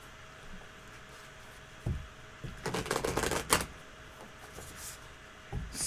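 Cards riffled and shuffled up close in a dense burst of rapid flicking and ruffling, preceded and followed by a few soft taps in a quiet room.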